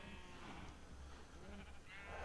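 Faint Minecraft sheep bleat in the Tekkit 1.2.9g modpack, with brief blurred calls over a quiet, steady background and no speech.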